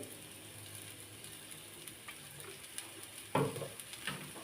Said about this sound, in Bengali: রান্নার তেলটা দিয়ে আবার একটু ভালো মতো নেড়ে চেড়ে নিতে হবে